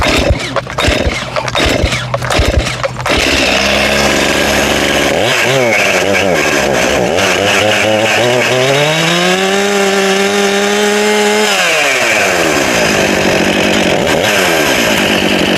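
Chainsaw started without the decompression valve: a few sharp pull-cord rasps, then the two-stroke engine catches, revs up and down in loud rising and falling sweeps before holding a high whine and dropping back to idle.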